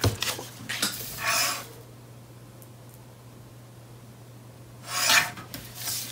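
Paper panel edge for a card cover being trimmed, two or three short close rasping cuts or rubs, the first burst near the start and another after a quiet pause, without talk.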